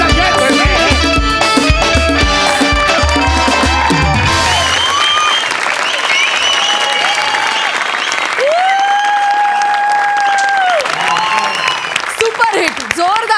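Audience applause at a live Marathi comedy sketch show, a loud steady clapping wash that runs the whole stretch, mixed with music, tonal sound effects and bursts of voices on stage.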